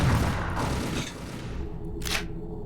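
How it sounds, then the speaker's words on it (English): Anti-material rifle firing in E.Y.E.: Divine Cybermancy, a heavy booming shot with deep rumble that decays over a second, followed by a brief bright mechanical clack. "Yeah, the recoil on that's very hard. It's an anti-material rifle"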